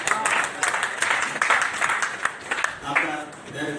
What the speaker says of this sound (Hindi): तो उस धैर्य के लिए ताली बजाइए अपने आप के लिए।